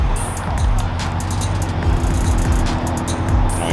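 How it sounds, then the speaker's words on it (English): An Audi R8 pulls in among exotic cars at a cars and coffee meet, a steady low engine rumble rising slightly as it nears, with the murmur of the crowd and passing traffic around it. "Ferrari leaving out right there. Audi R8 coming in."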